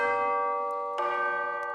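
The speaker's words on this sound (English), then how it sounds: "I'm using the tubular bell sound for that," A tubular bell patch from an orchestral sample library, standing in for handbells, rings out in two bright metallic strikes, the second coming about a second after the first, each leaving a long shimmering decay.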